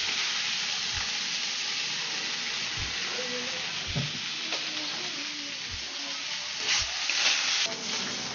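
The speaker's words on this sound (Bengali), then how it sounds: "এবার আমি তেল দিয়ে ভাজবো" Boiled teasel gourd fries in oil in a pan, a soft continuous sizzle broken by several low thuds and scrapes of stirring, close and steady.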